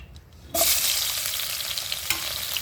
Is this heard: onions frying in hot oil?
yes